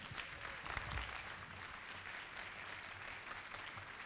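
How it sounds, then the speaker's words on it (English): An audience at a motivational speaking showcase in New York gives a sustained round of applause, a steady, even wash of clapping heard from a distance at low volume. "give it a round of applause then, ladies and gentlemen"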